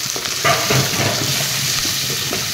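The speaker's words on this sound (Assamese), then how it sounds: "একেলগে পিঁয়াজৰে সৈতে তলকৰ কৰি ভাজি দিলোঁ" Ground spices fry with onions in a hot pan for a meat curry, giving a steady, close hiss of sizzling oil with faint stirring scrapes underneath.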